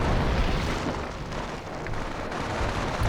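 Mortar fire in the World War trench battle game Company of Heroes: Europe in Ruins gives a deep, rumbling roar of explosions that rolls on continuously, loud and boomy, with no talking.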